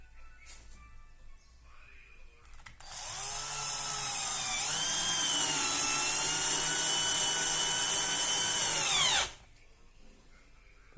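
Power drill driving a 2.5 inch screw into plywood: a loud, close, high motor whine that holds steady for about six seconds, dips slightly in pitch under load, then cuts off abruptly.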